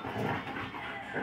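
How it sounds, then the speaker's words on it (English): A dog whimpers and whines in soft, wavering tones, close by, with a continuous breathy background and no clear talking. "She's just a really sad dog right now."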